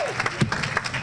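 Brief burst of applause at a Caribbean community carnival breakfast honoring Mayor Bill de Blasio, dense clapping with a sharp louder moment midway, fairly close and filling the room.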